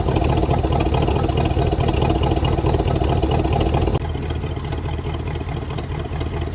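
A drag-race project car's engine idling steadily with timing set to 8 degrees, a loud close rumble with an even rhythm that drops slightly in level partway through.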